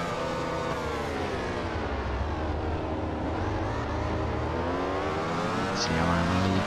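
Motorcycle engines in MotoGP 14 racing gameplay, a steady loud droning whine holding throughout with dense harmonic buzz, rising slightly near the end, and a faint talking voice underneath.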